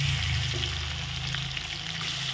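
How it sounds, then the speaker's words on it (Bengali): Fish frying in hot oil in a pan gives a steady, loud, close sizzle that holds unbroken throughout, with no talking over it. "দেখো এমনি দিলে কিন্তু দেওয়ার সাথে সাথে একদম ফাঁস করে ফুটবে।"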